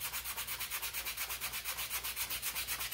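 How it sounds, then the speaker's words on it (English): Steady back-and-forth sanding along the edges of a leather holster, a rhythmic, close scratchy rasp at about seven strokes per second, continuous and alone without any voices. "and just sand these edges"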